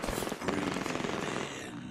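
Rapid bursts of automatic gunfire rattle close and loud in a video game, firing in a quick repeated rhythm for about a second and a half before trailing off.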